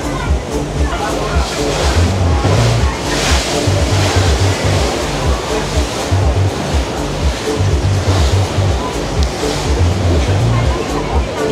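Chao Phraya river water churns and splashes against a moving cruise boat in Bangkok, a loud continuous wash with rhythmic surges, mixed with wind.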